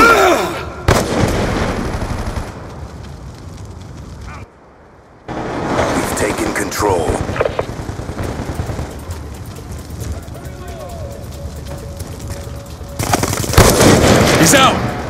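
Video game combat with a thrown grenade and sustained gunfire: loud, dense bursts of rapid shots fill most of the stretch, broken by a brief silent gap, with heavy blasts near the start and the end.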